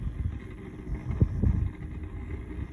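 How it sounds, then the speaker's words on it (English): Gusty wind blowing outdoors around a biogas digester flame test, a low rumbling roar that buffets steadily with a couple of stronger gusts, loud and close with no talking. "The wind just picked up."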